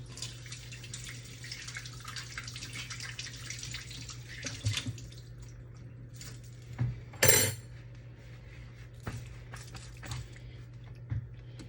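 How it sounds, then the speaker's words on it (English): Hands are washed under a running kitchen tap while pot roast pork chops are being prepared: a soft continuous stream of water with small splashes and a sharper gush near the middle. "So I'm gonna wash my hands."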